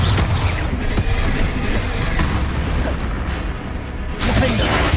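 Bombarda spell blast in Hogwarts Legacy, a loud booming impact with crashing, creaking debris and whooshes, sharp hits near the start, middle and end of continuous battle noise.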